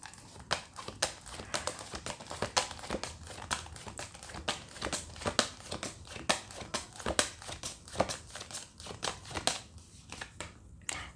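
Large tarot cards being handled and drawn, giving a steady run of close, crisp papery flicks and crinkles in irregular rhythm, with no voice.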